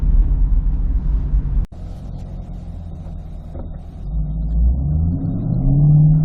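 Chevrolet Corvette C8 pulls away from a stop, its engine rumble low and steady at first and then rising in pitch as it accelerates, heard from inside the car with no talking.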